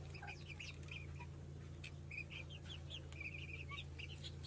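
Grey hen clucking softly in a coop, a run of quiet repeated clucks and chirpy calls over a steady low mechanical hum, faint and fairly close.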